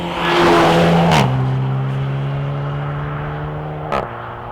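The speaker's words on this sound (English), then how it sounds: "they've deleted the middle silencer, and that has changed the sound of this car quite dramatically" A 2016 SEAT Leon Cupra SC 290 with DSG gearbox and its middle silencer deleted drives along, engine and exhaust droning loudly, with two quick gearshift breaks in the tone.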